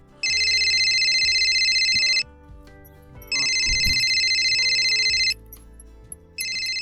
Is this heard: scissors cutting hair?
no